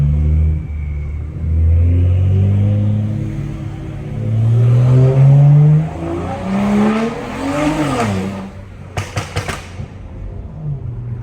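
BMW 335i E92 with N55 engine and straight-piped exhaust revving hard from inside the car, rising and falling engine roar followed by a rapid cluster of sharp exhaust pops near the end.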